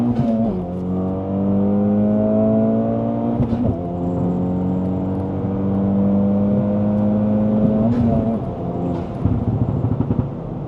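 A 2024 Acura Integra Type-S fitted with an A'PEXi N1-X valved catback exhaust under full-throttle acceleration. A loud engine note climbs through several gears with sharp shift breaks and no speech.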